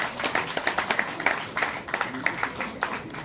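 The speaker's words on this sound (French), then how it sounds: "Ça mérite vos applaudissements, s'il vous plaît" An audience claps for a junior road cyclist at a Saint-Brieuc cycling club season presentation, the scattered, uneven claps rising and falling throughout.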